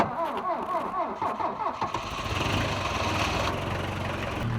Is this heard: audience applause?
no